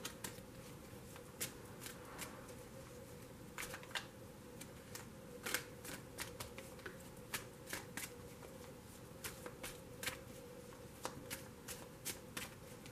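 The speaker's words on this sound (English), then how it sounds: "I'm going to start shuffling for the next pull." Tarot cards being shuffled by hand, a quiet run of crisp, irregular riffling clicks and snaps close by against a faint steady background hum.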